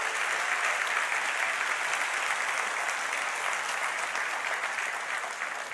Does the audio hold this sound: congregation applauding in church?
yes